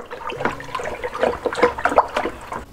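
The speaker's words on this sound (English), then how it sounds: "So let's just stir this all up" Wooden spoon stirring mixed berry wine must of yeast nutrient, water and sugar, giving a sloshing, swirling liquid sound with repeated splashy strokes at close range, moderately loud and steady throughout.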